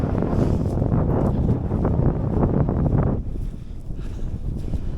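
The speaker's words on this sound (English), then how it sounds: "let's get off this hill. It's getting windy." Strong gusts of wind buffet the microphone on a hilltop with a loud, rumbling roar that eases after a few seconds into lighter blustering.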